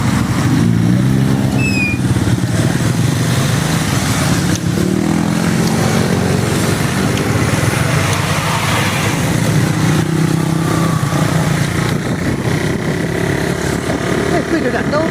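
A motorcycle engine runs at a steady idle with a low, throbbing hum throughout, while someone talks loudly over it close by.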